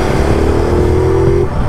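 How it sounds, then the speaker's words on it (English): Ducati Multistrada V2S motorcycle engine giving a loud, steady close-up growl with a rising tone, no talking over it. "The most important thing is that Ducati growl."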